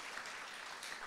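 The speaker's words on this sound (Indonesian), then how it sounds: "berikan tepuk tangan untuk gembala saudara" A church congregation applauds its pastor: faint, distant, continuous clapping that blends into a wash of noise and is heard only briefly.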